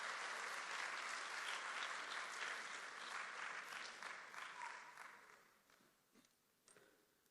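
An audience at a Thursday school chapel service at a Korean international school campus breaks into sustained applause to welcome the pastor to the pulpit. The clapping is dense and steady at first, then thins out and trails off toward the end.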